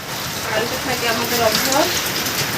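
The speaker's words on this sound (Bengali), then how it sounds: "এই যে বৃষ্টি হচ্ছেই" Steady evening rain falls continuously during a stormy spell, a dense even hiss of drops on surfaces, moderately loud and unbroken throughout.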